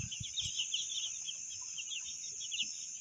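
Four-day-old chicks peep and cluck softly in a coop, a continuous chorus of thin high calls with a few low knocks and rustles nearby.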